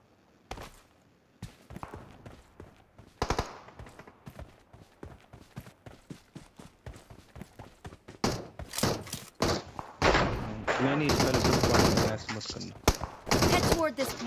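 Gunfire in the battle royale game BGMI: scattered pops and cracks at first, building into dense, overlapping bursts of automatic fire and impacts, with voices talking over the action.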